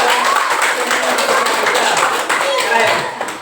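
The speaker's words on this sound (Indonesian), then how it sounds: "Oke, tepuk tangan." Hands clap together in a classroom teaching session, a dense patter of many people applauding close by, steady for a few seconds and tapering slightly at the end.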